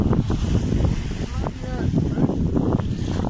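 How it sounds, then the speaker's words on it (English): Strong wind rushes steadily over a gaff cutter under sail on the sea, a loud continuous roar with microphone buffeting and the wash of water around the hull. "The wind has just picked up for us."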